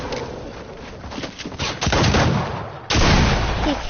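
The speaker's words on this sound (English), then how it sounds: "I shoot the guy down." Video game gunfire comes in rapid automatic bursts, dense and loud. The clatter runs almost continuously, with a short gap before a louder final volley.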